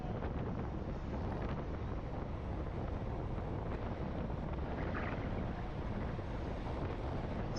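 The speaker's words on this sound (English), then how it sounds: "So windy day here going around the San Luis Reservoir." Steady wind at San Luis Reservoir buffets the microphone in a constant rumbling roar, with no voices or other distinct sounds standing out.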